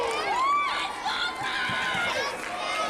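A wrestling crowd cheers and shouts in a dense, steady roar, with shrill whistle-like yells rising and falling through it and voices mixed into the din.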